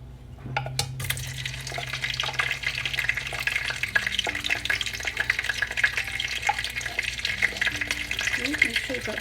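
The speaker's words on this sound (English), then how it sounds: "So I'm going to allow it to splutter a little bit, just for some time." Green chilies splutter and fry in hot oil in a pan for egg curry, a steady crackling sizzle running throughout at close range with occasional stirring clinks of a utensil against the pan.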